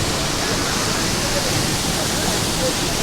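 A mountain waterfall on the road from Gangtok to Lachung in North Sikkim roars in a steady, loud, dense rush of falling water that does not let up.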